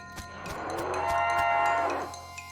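A cow in the video game West of Loathing lets out a single loud, drawn-out moo lasting about two seconds, alone with no talk.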